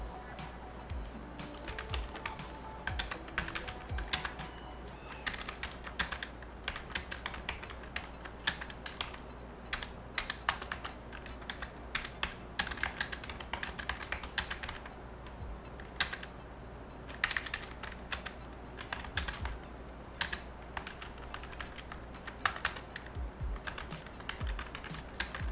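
Keys clatter quietly and steadily on a keyboard connected to a Google Pixel 2 XL phone while someone types a document, with quick irregular bursts of clicks and no talking.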